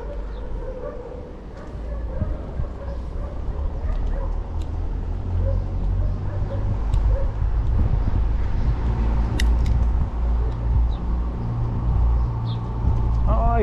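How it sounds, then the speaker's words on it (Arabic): Dogs barking in a residential neighborhood of Jenan Zenata near Ain Harrouda, scattered yaps over a low rumble of passing traffic and outdoor ambience, while someone talks throughout. "كاينين الكلاب تما"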